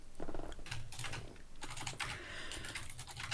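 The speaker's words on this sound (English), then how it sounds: "I can still hear you typing" Fast clattering keystrokes on a computer keyboard, quiet and close, in irregular bursts with brief pauses, no voices.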